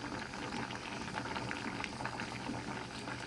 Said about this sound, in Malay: mendidih yang kuat macam ni